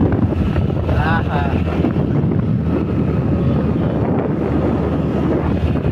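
Steady wind rushes and buffets the microphone on Boromboi hill in hot weather, a continuous broadband roar from start to end, with a brief faint voice partway through.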